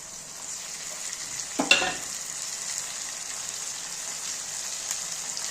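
Spices hit frying onions, ginger-garlic paste and dried chillies in a pan for mutton and potato curry, giving a sharp burst of sizzle and a stirring scrape, then a steady, even crackle of frying continues alone.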